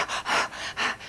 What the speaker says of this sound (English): When you get stressed, you tend to breathe higher in your chest and you're sort of panting.